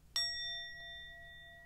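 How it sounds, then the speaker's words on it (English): A small bell is struck once, giving a bright clear ding that rings on with a long, slowly fading tone in a quiet room. "I want to do just a light"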